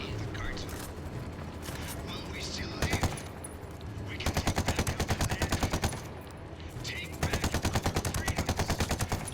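Automatic gunfire in the tactical shooter Ghost Recon Wildlands comes in several distinct rapid bursts of evenly spaced shots, separated by short pauses, with someone talking faintly underneath.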